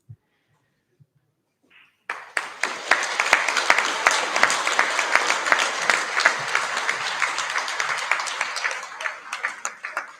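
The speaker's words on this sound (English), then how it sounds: "this team deserves a second round of applause" After a moment of near silence, a crowd at a high school senior prize-giving breaks into sustained applause, steady and loud, many hands clapping together until the end.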